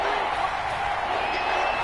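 Stadium crowd noise in a PS4 football video game, a steady loud roar of cheering that holds evenly throughout, dense and continuous with no break.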